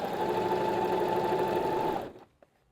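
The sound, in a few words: sewing machine stitching fabric layers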